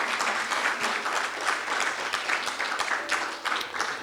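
A church congregation applauding during a service, a full, steady round of clapping from many hands that swells slightly in places and continues throughout.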